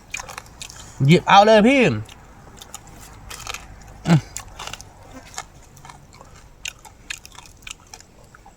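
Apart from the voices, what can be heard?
crunchy biting and chewing of grilled food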